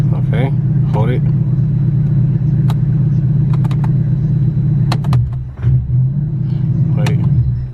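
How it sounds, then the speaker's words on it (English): A running Infiniti G37 engine idles steadily with a low, constant rumble after the car has been switched off, and a person talks over it. "It'll turn pitch black, but the engine will still be running."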